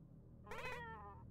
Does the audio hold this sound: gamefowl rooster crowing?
no